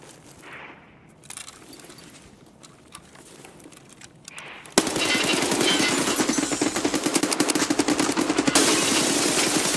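AK rifle fire in Escape From Tarkov: after a few quieter clicks and movements, a loud, sustained burst of rapid automatic shots erupts and rattles on for several seconds, close and harsh.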